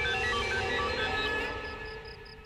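A phone rings with evenly spaced short high beeps that repeat steadily, rising out of a dense swell of dramatic background music that fades as the ringing continues.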